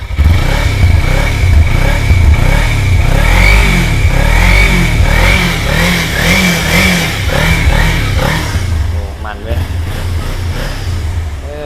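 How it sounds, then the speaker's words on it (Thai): A 2014 Kawasaki Ninja 300's stock exhaust burbles and revs in repeated surges up close, loud and rumbling, with someone talking over the engine throughout. "อันนี้เสียงท่อนะครับ ท่อเดิม"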